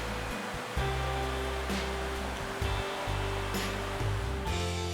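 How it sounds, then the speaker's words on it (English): A waterfall on the Manning River in Barrington Tops: a steady, broad rush of falling water fills the scene, constant and fairly loud, with a low hum underneath and no voices. "we could hear what sounded like a waterfall"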